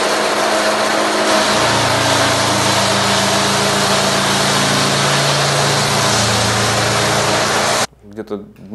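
A rented drum floor sanding machine grinds across old parquet coated in burgundy Soviet paint, a loud, steady motor whine with abrasive rasp that runs continuously and then cuts off abruptly near the end.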